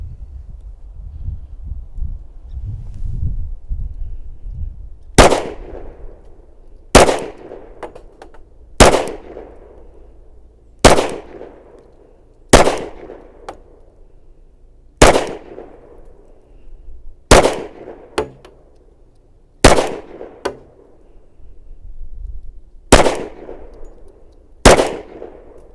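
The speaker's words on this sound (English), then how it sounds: "Be the first time I ever shot with heavy insulated gloves on" A SIG Sauer P320 XTEN 10mm pistol fired outdoors, eleven loud sharp single shots spaced a couple of seconds apart, each with a short ringing decay, after some faint handling noise.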